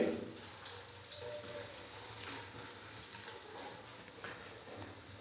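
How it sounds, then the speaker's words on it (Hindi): Finely chopped onion fries in a pan to light brown, giving a steady, close sizzle with a faint watery hiss that runs on its own for the whole stretch, with no talk over it. "प्याज को लाइट ब्राउन होने तक फ्राई कर लेंगे।"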